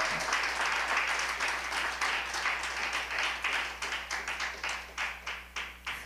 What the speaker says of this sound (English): clap your hand like you're glad to be here